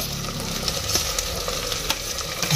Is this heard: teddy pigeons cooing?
no